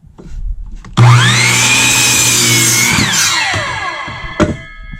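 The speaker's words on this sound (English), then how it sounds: "Give another miter saw cut." A miter saw spins up and cuts through material in a workshop while building a waste oil drum and water collection drum, a loud steady whine lasting about two seconds before winding down, with a sharp knock near the end.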